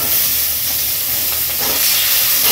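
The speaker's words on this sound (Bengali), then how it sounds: "এবারে কুচিয়ে রাখা পেঁয়াজটা এর মধ্যে দিয়ে দিচ্ছি।" Chopped onions hit a hot pan with cinnamon for a chicken stew, giving a steady, dense sizzle and hiss that stays loud and even throughout.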